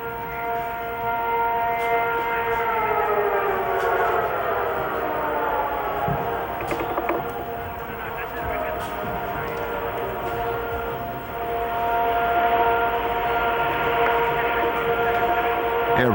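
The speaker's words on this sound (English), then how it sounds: "Air raid sirens in Riyadh, the capital of Saudi Arabia." Air raid sirens wail over Riyadh, Saudi Arabia, a long steady rising and falling civil defense tone carrying from a distance across the city for the whole stretch, with no voices over it.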